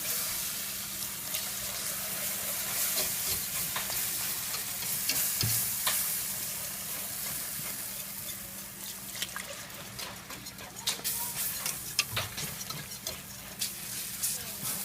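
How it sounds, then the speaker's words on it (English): Flour and grease stirred into gravy in a pan for biscuits and gravy, with a soft continuous sizzle and bubbling under steady spoon scraping that carries on throughout, close up and fairly quiet. "Yep, add a little bit at a time and keep on stirring."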